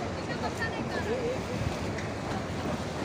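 Ocean waves washing against the shore near Haji Ali Dargah in Mumbai, a steady broadband surf wash with wind noise on the microphone and faint background voices throughout.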